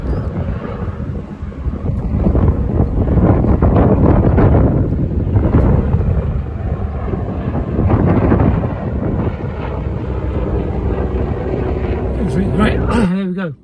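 Strong wind gusting across an exposed, cold walking path in Dundee, a loud continuous roar buffeting the microphone that swells and eases over several seconds, with no talk.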